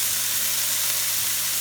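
Apples and garlic sautéing in a pan for a frittata, giving a steady, close sizzling hiss with a faint low hum beneath, unbroken for the whole short stretch.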